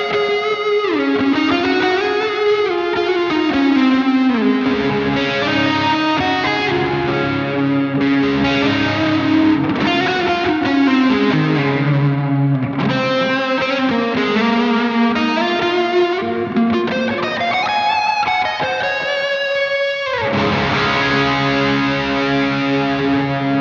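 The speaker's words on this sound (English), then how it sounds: "Chuck on a Cheap Screamer." Electric guitar played through a Tube Screamer-style overdrive pedal, giving a warm distorted tone with sustained notes and melodic lead phrases, loud and continuous with no speech.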